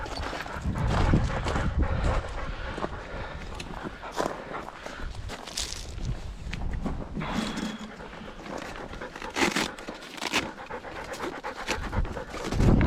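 A dog pants quickly and rhythmically close by on a hiking outing, mixed with footsteps on the ground and some rustling; no one speaks.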